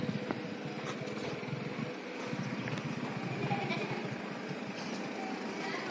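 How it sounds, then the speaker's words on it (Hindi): A white desi milk goat bleats in short repeated calls over a steady background hum of passing traffic, close and moderately loud, with no talk. "ये देसी गोट है, बहुत अच्छी दूध की"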